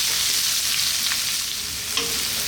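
Chopped onion and fresh chili sizzle and fry steadily in a hot pan for a Filipino sautéed pechay dish, a continuous close crackling hiss with small pops and no voices.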